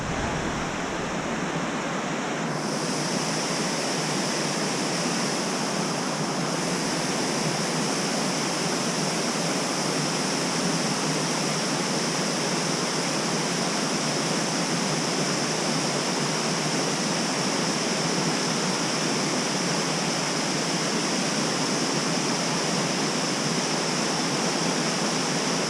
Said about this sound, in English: That's gonna be one tall waterfall up there.